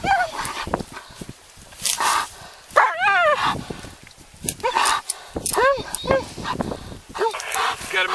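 A police dog barks and yelps repeatedly in short, excited bursts at close range during an arrest after a pursuit of a stolen vehicle, mixed with shouting officers.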